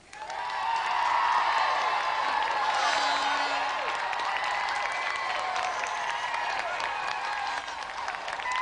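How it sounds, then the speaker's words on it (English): A television game-show studio audience applauds, a dense, steady wash of clapping with a few whoops that holds for several seconds before easing slightly. "Let's have another round of applause for Dean Mortlock and Paul Mellerick"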